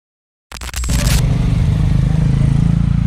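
A motorcycle is shoved off a sidewalk, a brief scrape and clatter giving way to the steady, close, loud rumble of its engine running.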